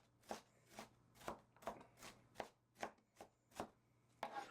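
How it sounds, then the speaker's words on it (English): A knife chopping cranberry sauce ingredients on a cutting board, about ten evenly spaced crisp chops at a steady rhythm, close and fairly quiet, with no talking. "we're going to go ahead and just chop this up just a little bit more"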